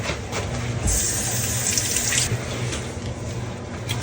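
Tap water runs steadily over a small bunch of fresh cilantro leaves in a kitchen sink, a continuous close splashing hiss with brief surges as the leaves move under the stream.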